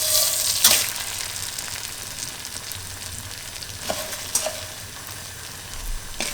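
Rice being fried in a pan for a traditional beef broth pilaf, a steady close sizzle with a few sharp scrapes and clinks of stirring scattered through.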